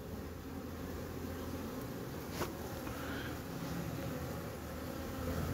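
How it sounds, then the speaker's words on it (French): Honey bees hum steadily around a beehive entrance as foragers return loaded with pollen, a continuous even buzz filling the air at moderate level, with one brief closer pass near the middle. "Il y a une abeille bizarre là."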